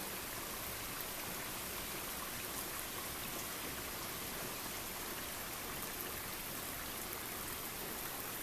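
Steady rain falls on a Memorial Day weekend, a dense, even hiss that runs without a break through the whole stretch, with no voices over it.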